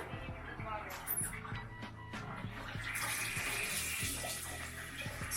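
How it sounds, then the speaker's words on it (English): Filtered water from a tap runs steadily into a 4-cup measuring cup while vegetable stock is being made, a continuous splashing rush close by with clatter mixed in. "So this is a 4-cup measuring cup. So I'm gonna fill it up to the 4 cups."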